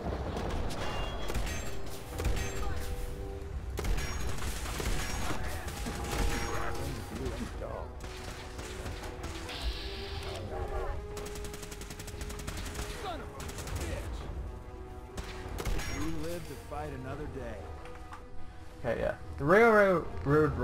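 Rifle shots in Fallout 4 crack out intermittently, single and in quick clusters, amid game effects and mechanical clatter, with a voice talking over much of it.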